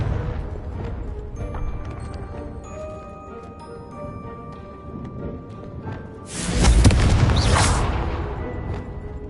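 A Confringo blasting spell detonates in a Harry Potter video game, a loud broadband burst with a deep low-end boom swelling midway and rolling off over a couple of seconds, set over a steady musical score.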